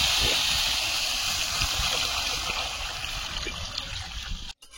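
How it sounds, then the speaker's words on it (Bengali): Water poured steadily into a pan of spice mix for a Bengali fish curry, a close, hissing trickle that runs almost five seconds before stopping abruptly. "মশলাটা রেডি হয়েছে, এবারে জল দিয়ে দেবো।"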